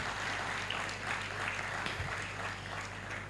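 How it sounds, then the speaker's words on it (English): An audience at a digital content conference applauds Funke Akindele with a steady, dense wash of clapping, moderately loud and continuous, with no talk over it. "Another round of applause for Funke Akindele."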